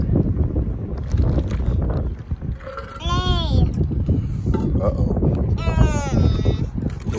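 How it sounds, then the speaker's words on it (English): Wind buffets the microphone outdoors as a low, rumbling roar throughout, with a voice and other brief sounds on top. "The wind."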